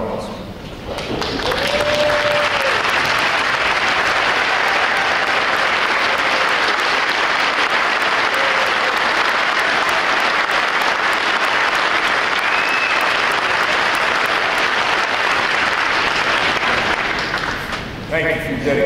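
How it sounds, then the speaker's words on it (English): A large audience at a US Navy Recruit Training Command graduation applauds veterans in a loud, sustained wave of clapping that builds quickly and carries on for well over fifteen seconds before tapering off. "For all our veterans, please rise and give you a round of applause"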